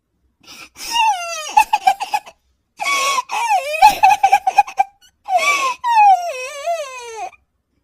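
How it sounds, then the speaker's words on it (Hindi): Someone cries in a forest, a high wavering sob broken into several sharp bursts with short pauses between them, close and fairly loud. "वो जंगल में लकड़ी बीनने गई थी कि तभी उसे रोने की आवाज आती है।"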